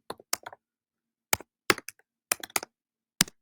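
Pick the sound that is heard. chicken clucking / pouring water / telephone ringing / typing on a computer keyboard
typing on a computer keyboard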